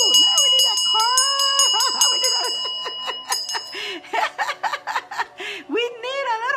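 A bright little bell sound effect chimes repeatedly in quick, ringing strikes, followed by a woman's laughter and giggling.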